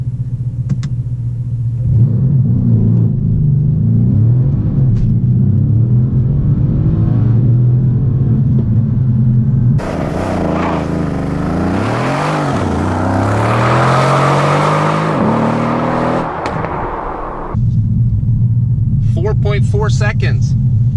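A 503 hp Mercedes C63 AMG accelerates hard from a stop, its engine rising through the gears with a loud roar. The sound is heard from inside the car, with people talking over the low rumble before and after the run.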